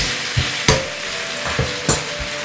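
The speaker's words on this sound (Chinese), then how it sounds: "油热后，倒入沥干水分的冬瓜，开小火持续翻炒30秒，让冬瓜均匀裹上油脂。" Drained winter melon stir-fried in hot oil over low heat: a constant sizzle punctuated by four sharp spatula scrapes against the wok at a steady pace.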